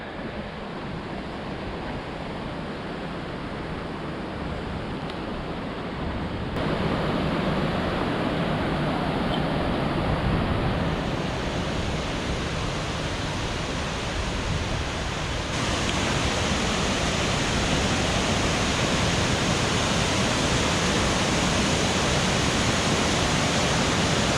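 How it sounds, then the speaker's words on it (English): Big Pine Creek rushes loudly and continuously near a waterfall in the John Muir Wilderness, a dense broadband roar with no voices. "I think this is Big Pine Creek we're walking next to."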